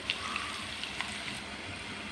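Spices for a gongura and red chilli chutney crackle and sizzle in hot oil, a soft steady frying hiss with a few sharp pops near the start.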